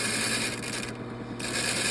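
Steady broadband grinding of a cabochon mandrel tool against a bench wheel, a continuous loud rasping hum with no pauses and no talking.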